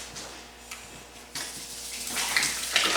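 Lye being mixed into five gallons of water in a bucket for tanning a deer hide, a close rush of pouring and splashing water that swells louder toward the end, with no talk.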